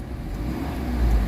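A Mitsubishi Adventure engine, treated with XADO after a throttle delay and low power problem, gives a close, steady low rumble that swells slightly louder near the end of a short rev.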